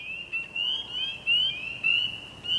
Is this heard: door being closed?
no